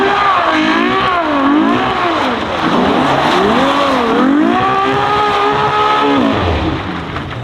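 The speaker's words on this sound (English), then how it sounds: "That was the best sounding donut I've heard." A car spins a donut on an open concrete lot, its tires squealing loudly in long wavering howls that rise and fall with the slide over a revving engine.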